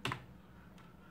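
Keystrokes on a PC computer keyboard while typing a web address into a browser: a quick burst of clicks near the start, then a couple of faint isolated taps.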